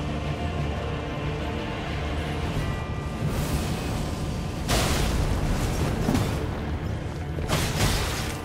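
Explosions in the video game Elden Ring, a sustained roaring rumble with two loud bursts in quick succession, heavy and close, with no talk over them.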